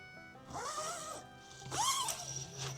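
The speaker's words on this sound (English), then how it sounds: "Unzip this one all the way." Two quick hammock zipper pulls, close and fairly quiet, each a short rasping sweep with a brief pause between them.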